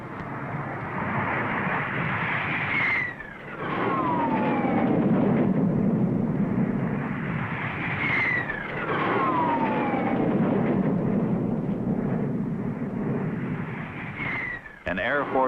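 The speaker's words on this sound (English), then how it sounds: "An Air Force salute of speed booming across 450 acres" Air Force jets roar overhead in repeated swelling passes above a speedway on race day, each sweeping whoosh rising and fading, loud and continuous with a deep rumbling base.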